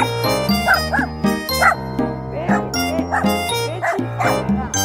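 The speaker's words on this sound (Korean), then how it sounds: "왜왜 짖어?" A small Bichon-type mixed-breed dog on a walk gives a rapid series of sharp, high yips and barks, close and loud, with people talking in between.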